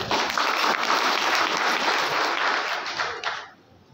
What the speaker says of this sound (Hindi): उसके लिए आप तालियां बजाइए।